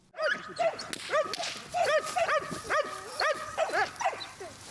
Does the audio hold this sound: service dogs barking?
yes